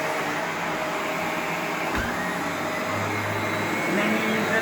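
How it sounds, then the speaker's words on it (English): A Shark Rotator Professional Lift-Away NV501 upright vacuum cleaner runs with a steady, close whirring roar that holds level throughout. "you use it like you would any upright vacuum cleaner"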